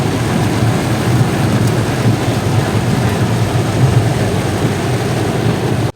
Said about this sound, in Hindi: इस बात में तो कोई शक नहीं है कि हम तूफ़ान में फंस चुके हैं।